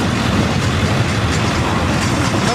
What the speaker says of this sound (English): But this is definitely a not so distant train.